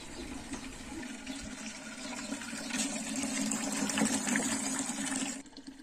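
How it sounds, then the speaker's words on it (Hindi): Thin water runs steadily from a pipe at a village water tank in the Uttarakhand mountains, a faint, continuous trickling hiss that stops abruptly at the end. "पानी देख रहे हो कितना कम आ रहा है"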